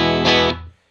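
On the bridge pickup, a Nystrum Jag-style electric guitar rings out a distorted chord with a bright strummed attack, sustaining briefly before cutting off, loud with no talk over it.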